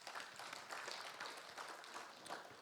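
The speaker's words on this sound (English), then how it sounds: "Please give yourselves a round of applause." Applause from a lecture audience: steady, dense clapping with no break, heard faintly and at a distance.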